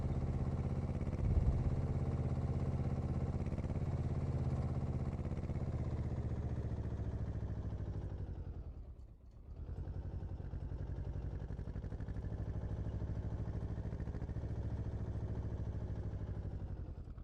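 A tractor engine known as the '30' in Farming Simulator 17 runs with a steady low rumbling drone throughout, dipping briefly in the middle before resuming at the same even level, with no talking.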